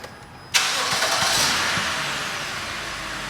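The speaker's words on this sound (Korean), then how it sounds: "자, 2차 주입을 위해서 시동을 걸러 가고 있어요. 시동을 걸고" A BMW F10 fires up after brief quiet, with a sharp catch of the starter followed by a loud, close engine roar that settles into a steady idle, during a transmission oil change with no talking.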